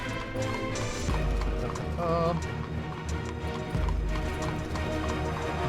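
Horse-drawn carriage hooves clip-clop steadily in the game Fallen London, a close rhythmic trotting with a brief whinny, set against dense music and ambient layers.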